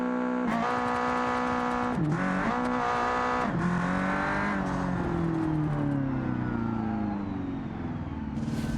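A race car built for drag racing laps a track in the BeamNG driving game, its engine loudly revving up and down through gear changes with rising and falling pitch, with occasional tire noise.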